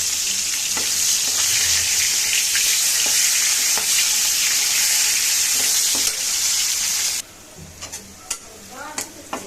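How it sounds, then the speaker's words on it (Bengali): Pieces of silver carp fry in hot oil, a loud dense crackling sizzle with intermittent spatula scrapes, dropping abruptly near the end to quieter, sparse spits and pops. "ঠিক এভাবে ভাজে নেবো মাছ।"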